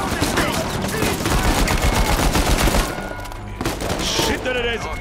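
Rapid bursts of gunfire and a distant boom in the video game Uncharted 4, a dense barrage of shots over the first three seconds that thins into scattered fire, with some background game sound.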